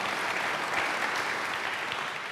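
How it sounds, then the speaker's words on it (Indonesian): A church congregation applauds during a sermon, a steady wash of clapping that stays moderately loud for the short stretch without pause. "Tepuk tangan bagi Allah kita"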